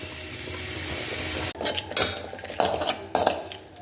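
A soft pan sizzle, then a thick ground paste for bitter gourd curry drops in and a spoon scrapes and clatters against the pan in several stirring strokes.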